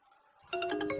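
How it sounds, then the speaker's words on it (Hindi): A mobile phone ringtone starts abruptly after a faint lead-in, a bright repeating melodic chime playing clearly and alone. "ये किस गधे का फोन बज रहा है?"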